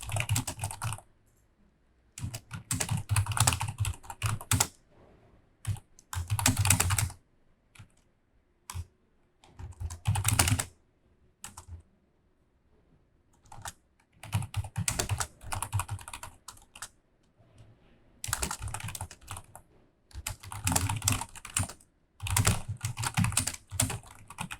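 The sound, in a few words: typing a prompt to ChatGPT on a computer keyboard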